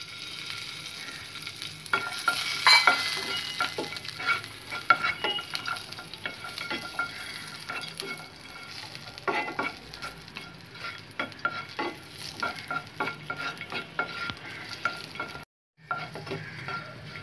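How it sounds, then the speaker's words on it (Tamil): Cashew nuts fry in ghee for rava kichadi, a continuous close sizzle with frequent scraping stirs and light clinks of the spoon against the pan, briefly cutting out near the end. "இந்த நெய்யில் கொஞ்சம் முந்திரி பருப்பை வந்து நம்ம போட்டு வறுத்துக்கலாம்"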